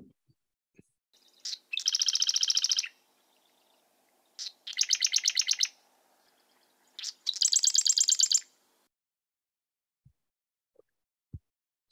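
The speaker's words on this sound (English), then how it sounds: "So here's what they sound like, the Western marsh wren versus the Eastern marsh wren" Marsh wren songs, Western and Eastern types, come as three separate bursts of rapid, buzzy trills, each about a second long, with silence between them. The bird is clear and close, with a couple of faint clicks at the end.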